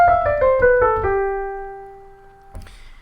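Piano notes descend step by step in a scale, a short rapid run settling onto a held low note that rings and fades. A soft knock and brief movement sound follow near the end.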